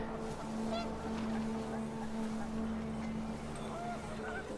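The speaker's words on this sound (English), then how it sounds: "The wind picked up, and panicked geese appeared and quickly went." In the video game What Remains of Edith Finch, wind blows faintly outdoors while panicked geese honk briefly in the distance, a few scattered calls over a low steady hum.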